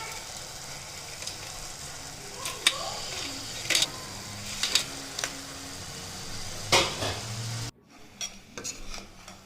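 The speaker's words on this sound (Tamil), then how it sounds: "நண்டுக்குள்ளெல்லாம் மசாலா போகணும். அது மாதிரி கிளறி விடுங்க." A spoon stirs medium-sized crab pieces in a masala in a cooking pan, with soft sizzling under scraping and occasional sharp clicks of utensil against pan, steady and close throughout.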